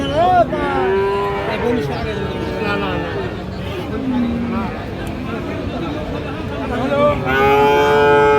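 Cattle moo loudly and repeatedly nearby, long drawn-out calls rising over a crowd of people talking and general chatter at a cattle market in Raniganj, Dinajpur.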